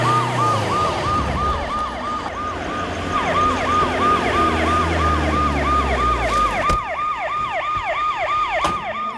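An ambulance siren wails in a steady, rapidly repeating up-and-down pattern, loud and close, with a rumbling vehicle engine beneath it and no talk.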